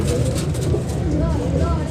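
Pigeons coo in soft, repeated throaty calls amid steady crowd bustle at a busy pigeon market in Lahore, with voices talking nearby.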